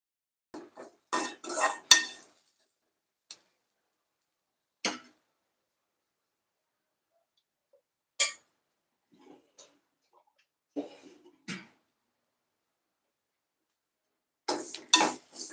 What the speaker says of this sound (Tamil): இப்போ நல்லா கிளறியாச்சு